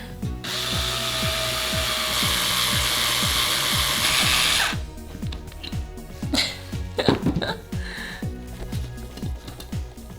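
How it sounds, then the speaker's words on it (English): A small power drill whines steadily for several seconds while drilling a hole in brass, then stops, followed by clicks and handling noises nearby. "I'm able to drill a hole with this mini machine here"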